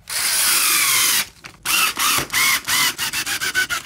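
A power drill drives screws into a wooden pedalboard: one long whirring run, a brief pause, then a string of short bursts that quicken toward the end, close and loud.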